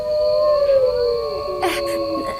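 Several dogs howl together in a Filipino aswang horror story, a long rising and falling wail that swells and overlaps, with a burst of noisier cries toward the end.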